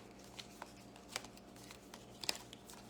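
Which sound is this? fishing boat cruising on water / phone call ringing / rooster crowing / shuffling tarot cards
shuffling tarot cards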